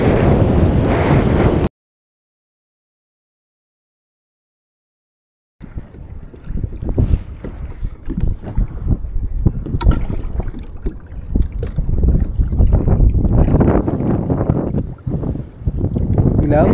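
Strong wind buffets a small fishing boat at sea near an island, a loud roaring rush of gusts and microphone wind noise, broken by a few seconds of silence near the start.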